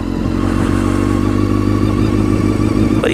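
A Honda CBR600 F4i motorcycle engine running close by, a steady loud mechanical drone with a faint clattering texture, no rise in revs and no talking.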